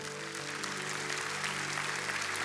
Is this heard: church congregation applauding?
yes